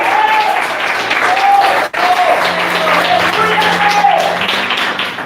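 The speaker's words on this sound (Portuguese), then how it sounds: "aplauda o mestre neste momento" Applause from a crowd, a continuous patter of clapping hands that holds steady throughout with a brief dip near the start, fairly loud.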